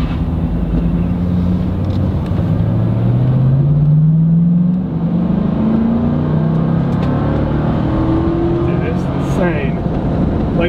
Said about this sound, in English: I'm only gonna go about half throttle, but I just want y'all to see the freaking pickup this truck has.